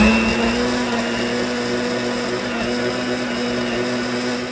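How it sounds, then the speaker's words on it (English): Blender running steadily on a smoothie of bananas, strawberries, avocado and almond milk, a loud, close, continuous whirring motor hum with a steady pitch that holds throughout. "And we're going to be blending it."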